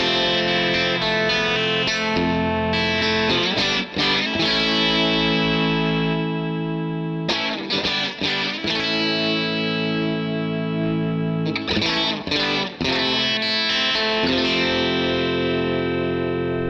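An electric guitar runs through Line 6 Helix Native with reverb and a compressor, playing loud, sustained distorted chords with a shimmering chorus-like wash; phrases ring out and stop abruptly a few times, with no talking.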